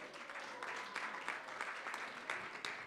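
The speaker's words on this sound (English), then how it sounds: "Give a big round of applause, everybody" Audience applause at a youth legacy gala, a continuous crowd clapping with a few sharper individual claps standing out, filling the room at even volume without speech.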